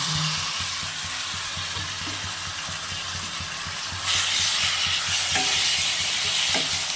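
Continuous hissing sizzle of boiled taro greens frying in a pan, with scraping stirs; the sizzle swells louder midway as more goes in.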